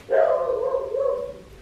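A single close, loud dog bark stretched into a brief whining bow-wow, heard indoors and clear of any talk.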